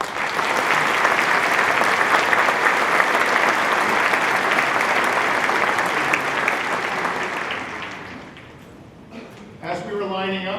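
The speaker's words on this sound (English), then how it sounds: "Please join me in a round of applause." A large crowd applauds at a college commencement ceremony in a fieldhouse, a dense, sustained clapping that fades out after about eight seconds before a voice begins speaking.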